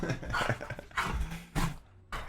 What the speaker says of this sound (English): So he's gonna bark.